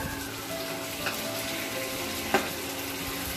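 Hilsa fish frying in a pan with poppy seed and almond, a steady close sizzle with a faint stir or scrape near the middle.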